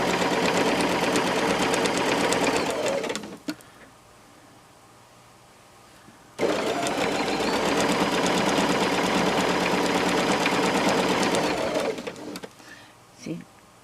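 A sewing machine stitches binding onto oven gloves in two long steady runs with a quiet pause between them and a few short stitches at the end, close and loud.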